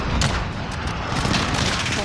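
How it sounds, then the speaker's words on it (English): Dense pistol gunfire in a video game, with rapid overlapping shots over a loud, busy battle mix, and voices talking close over it. "Shoot it with a fucking pistol."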